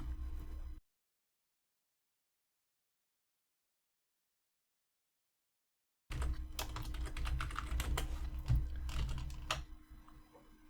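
Rapid, close clatter of keys on a computer keyboard while programming projectile types for a game. It starts after a long silence and runs as a dense, uneven run of keystrokes with no talk.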